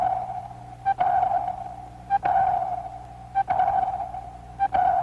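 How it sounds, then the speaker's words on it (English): Naval sonar (ASDIC) searching for submarines, sending steady pure pings repeated about every 1.2 seconds, each with a sharp onset and a long ringing tail, loud and alone. "Sonar, ASDIC as the British call it, sends a sound wave into the depths, searching for a return echo from the enemy."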